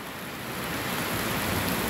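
A passing late-winter rain shower in Guajará-Mirim, Rondônia, falls as a steady, dense hiss that grows slightly louder and continues without pause.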